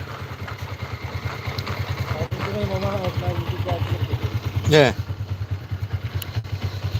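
A motorcycle from Kelantan idles with a steady low pulsing thrum throughout, close and fairly loud, while people talk over it and a brief louder rev or horn-like burst cuts in near the end.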